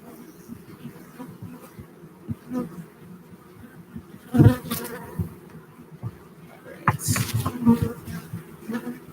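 Honeybees buzz around a hive being installed, a steady low hum with a few louder passes close by and light handling noises.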